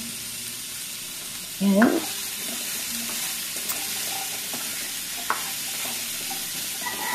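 Aromatics and vegetables sautéing in a pan, a steady low sizzle with faint scrapes of stirring, briefly broken by a short word of talk.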